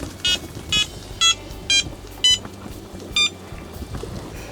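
A Prologic SMX fishing bite alarm gives six short, evenly spaced high beeps in quick succession, loud and close over a faint outdoor background.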